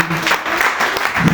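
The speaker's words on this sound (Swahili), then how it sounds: "Tupigie bishop wetu makofi mazuri." A church congregation claps for their bishop in a dense burst of applause that fills the room, loud and close, with some crowd voices mixed in.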